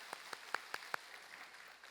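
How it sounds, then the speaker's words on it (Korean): A church congregation claps during a worship service, heard as five distinct, evenly spaced claps that stand out faintly against a quiet room, then fade into low background noise. "그 하나님께 영광의 박수 올려드리겠습니다"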